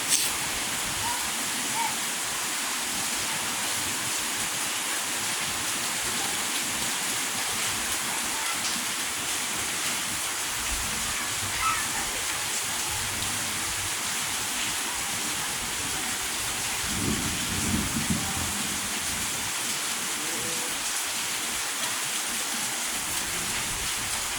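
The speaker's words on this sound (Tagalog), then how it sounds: "Tingnan mas malakas ng agos." A strong river current rushing steadily in a constant loud broadband roar, with faint voices of people talking briefly under the water noise.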